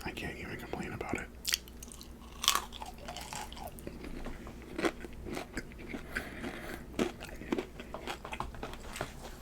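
Close crunching and chewing of crunchy cheesy Maxwell Polish fries, with irregular bites and soft mouth sounds, quiet and intimate, accompanied by faint whispered speech.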